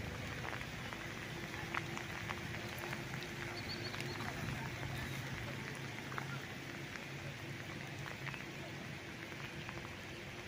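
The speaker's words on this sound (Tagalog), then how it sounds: "Yan, medyo maulan, nandito tayo ngayon, uulanan." Steady rain falling over a rice field in Pila, Laguna, a dense even patter of drops close around, with a faint low hum beneath.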